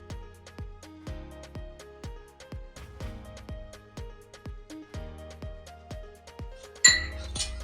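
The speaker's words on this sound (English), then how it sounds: "we're just going to whisk that flour in until it's nice and smooth" A whisk clinks repeatedly against the side of a pot, stirring flour into melted butter on the stovetop in quick, evenly spaced metallic taps, close and moderately loud, ending with one sharper clank.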